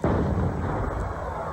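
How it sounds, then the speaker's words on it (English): A parade cannon at the 1991 Provo Freedom Festival Grand Parade fires with a sudden loud boom, and its broad rumble decays over about a second amid outdoor crowd noise. "They're going to help us right after they shoot the cannon."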